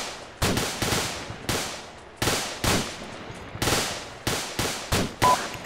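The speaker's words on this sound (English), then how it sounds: "Now listen to an entire section, doing one round every 3 seconds." An infantry section firing rifles as suppressive fire outdoors on a range, about a dozen loud, sharp shots, some overlapping, spaced irregularly at roughly half-second to second intervals, each with a short echoing tail.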